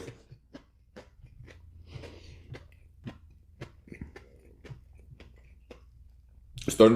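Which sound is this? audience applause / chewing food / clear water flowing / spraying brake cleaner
chewing food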